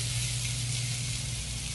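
Grilled onions sizzle steadily on a hot Blackstone griddle, a close, even hiss with no pauses and no voices.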